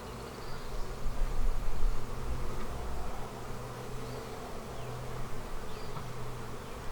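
Honey bees buzz in a dense, continuous hum during an inspection of a bee barn hive, close and steady with a few individual bees whining past.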